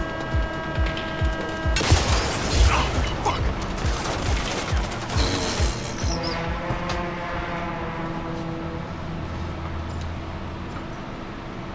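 Rapid bursts of video game gunfire crackle in dense volleys like machine-gun fire, loud for several seconds before thinning into a steady mechanical hum and faint distant shots.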